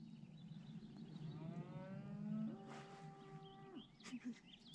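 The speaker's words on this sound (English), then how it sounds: "That was a cow from the other side." A cow lows across a lake in a remote Colorado camping spot, one long drawn-out moo that rises and then falls away, faint and distant over quiet outdoor ambience.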